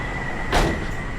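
A 1988 Honda CRX with a K20 Type R swap has its door opened, a single short burst of latch and hinge noise rising briefly above a steady background hum.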